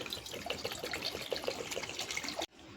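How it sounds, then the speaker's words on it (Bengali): Water splashes steadily into a pan set on the stove for boiling papaya for laddoos, a close, bubbly trickling pour that stops abruptly near the end. "সিদ্ধ করার জন্য জল দিয়ে দিচ্ছি"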